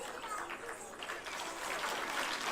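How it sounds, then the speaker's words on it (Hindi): Applause from an audience at a national Jeevan Vidya gathering, a steady dense patter of clapping that holds for the whole moment with a faint murmur of voices underneath. "जोरदार तालियों से स्वागत करिए"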